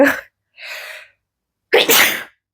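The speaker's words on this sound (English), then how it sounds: "I'm gonna sneeze" A single sneeze: a short breath, a sharp inhale, then a loud explosive burst close to the microphone, with silence between.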